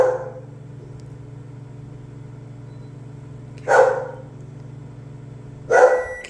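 A frightened dog gives two short, sharp bark bursts several seconds apart indoors during a thunderstorm, over a steady low background hum.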